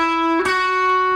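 Clean electric guitar plays a short slide lick from a solo: a sustained note that bends and slides upward partway through, with a brief pick attack near the end, solo and close.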